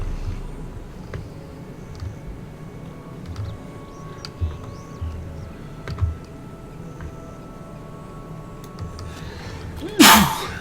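A single sharp human sneeze bursts out loud and close near the end, after a long stretch of quiet low rumble and scattered faint clicks.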